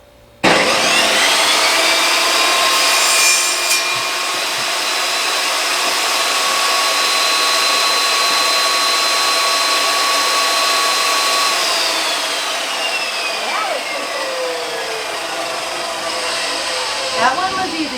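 Power sanding of a wooden coffee table board, a steady loud motor whine and abrasive hiss running almost continuously from start to finish with slight pitch drift and a brief bump near the end.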